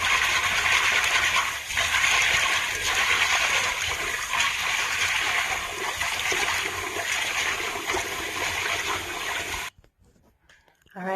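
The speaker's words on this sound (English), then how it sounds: "it is properly rinsed to get rid of any impurity, any debris" Pig tails and chicken feet rinsed under running water in a kitchen, a steady loud rush of splashing water for about nine seconds that cuts off abruptly into near silence, with no voices.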